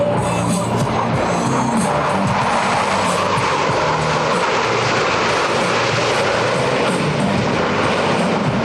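US Navy Blue Angels jets flying over an airshow produce a broad, continuous roaring rush that stays loud and steady across the whole stretch, with no voices heard over it.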